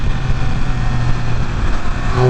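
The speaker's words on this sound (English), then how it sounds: "What an intoxicating sound, dude. Listen to that. Y'all hear that? And that's with a stock exhaust as well." A Triumph Speed Triple 1200 RR motorcycle on its stock exhaust holds a steady, loud engine drone, with no pauses or talk over it.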